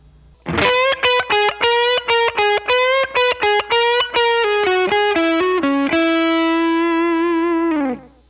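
A heavily distorted electric guitar plays a quick run of separate notes in a Jimmy Page-style Lydian blues lick, then holds a long sustained note bent a whole step up from B that fades, loud and up close.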